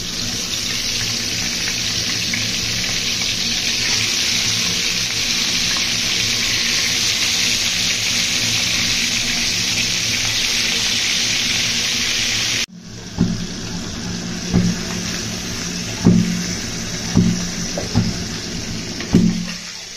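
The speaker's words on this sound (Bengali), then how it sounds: "সয়াবিন তেলটা গরম হয়ে আসলে এর মধ্যে আমি মাছটা দিয়ে দিব।" Catla fish frying in hot soybean oil for a Bengali doi katla dish: a loud, steady sizzle that cuts off abruptly, giving way to a quieter crackle with scattered pops and clinks.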